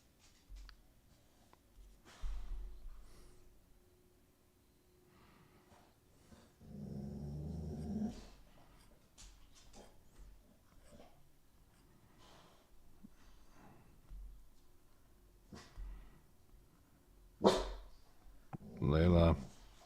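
A dog growls and barks close by in a quiet indoor room, with short bursts of grumbling and a louder flurry of barks near the end, separated by soft rustling and gaps.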